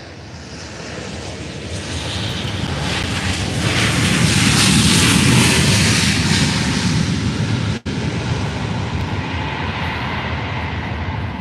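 A passenger airliner roars past at Faro airport, its loud jet engine noise swelling to a peak and then fading slowly, with no voices over it.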